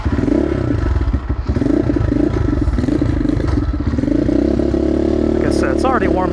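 Modded Gryffin 250 motorcycle ridden on the road, engine loud and close with a steady pulsing drone and rising revs, a voice speaking briefly over it near the end.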